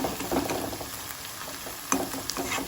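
Betel-leaf-type greens (betho shak) frying slowly in oil over a low flame, a soft steady sizzle with faint crackles and a couple of sharper pops near the end, close and alone.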